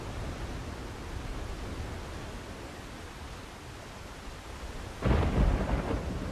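A thunderclap rolls in during a storm in the video game Windrose, heavy and rumbling after a long stretch of steady rain-like hiss. No one talks.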